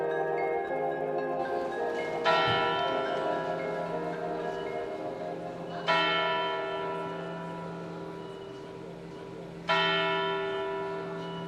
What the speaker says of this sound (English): This is the Zeitglocke, a German word that means time bell.